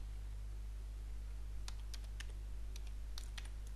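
Keys on a computer keyboard tap out text in Notepad in a few short bursts of quick, light clicks, close but fairly quiet over a steady low electrical hum, with no speech.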